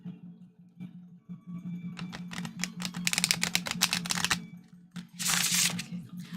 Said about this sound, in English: So nice to be able to shuffle cards again.